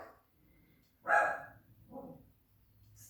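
Dogs barking in a house, one loud close bark burst followed by a softer second bark, with quiet room noise between.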